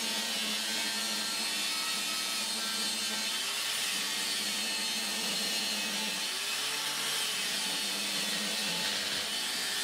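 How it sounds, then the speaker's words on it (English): A metal gas cylinder has its top cut off with a power tool on a cutting jig, giving a steady, harsh, continuous grinding roar throughout. "So there we go, a beautiful cut in our gas cylinder"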